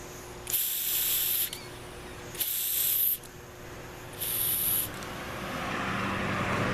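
Three loud bursts of forceful, hissing air blown into a hose, each lasting about a second, separated by short pauses over faint background noise.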